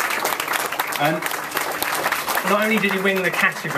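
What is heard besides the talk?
audience applause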